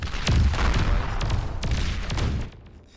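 Units in a strategy video game fire at a target in repeated loud volleys of gunfire, a dense rattle of shots that fades out at the end.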